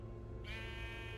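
A single bleat from a Minecraft: Story Mode sheep starts partway through, a quiet, nasal and sustained game sound with no voices.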